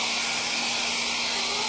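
A hot air blower dries a wet Astron automatic washing machine, giving a loud, steady hiss of rushing air with a constant motor whine, alone for under two seconds.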